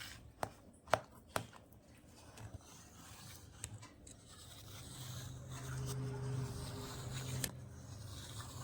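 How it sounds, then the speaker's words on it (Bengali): A knife cuts a rice malai dessert topped with chopped pistachios into pieces, giving a few sharp close taps at first, then soft muffled scraping and cutting sounds that are fairly faint. "এবারে পিস পিস করে কেটে নিলে আজকের রেসিপিটা একদম রেডি।"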